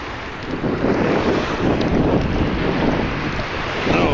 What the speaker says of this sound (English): Starting to breeze up more than I like.